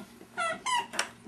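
A pet dog named Riley lets out three short, high-pitched whimpering whines in quick succession, close by and fairly quiet, with no talking over them.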